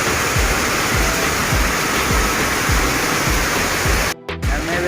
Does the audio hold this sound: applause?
no